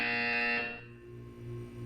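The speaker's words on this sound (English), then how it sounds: "You will hear a buzzer." A steady electronic buzzer tone from the Portal 2 video game sounds loud and continuous, fading slightly partway before holding on to the end, with no voices over it.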